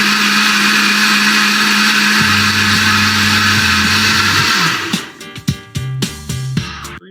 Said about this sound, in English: I will empty the bags into a blender, add water, and blend it to a consistency that you can drink it.